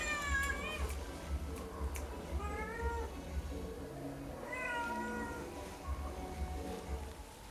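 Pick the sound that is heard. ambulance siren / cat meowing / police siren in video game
cat meowing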